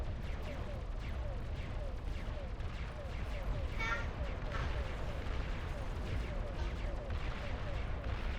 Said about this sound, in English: Those tremors. Oh yeah. Really nice effect.